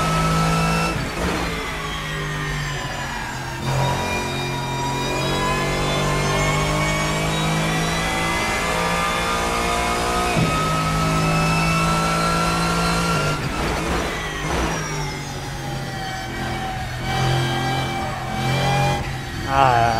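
A GTLM GT3 racing car engine revs hard and holds high, with a rich harmonic whine that climbs and drops through gear changes, loud and close with no talk over it.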